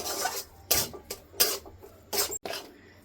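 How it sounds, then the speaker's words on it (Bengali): Pumpkin barfi mixture is stirred in a pan for a Bengali sweet, making about five rhythmic scraping strokes of a spoon against the pan, close and fairly loud with brief pauses between them. "সুন্দর করে মিশিয়ে নেব"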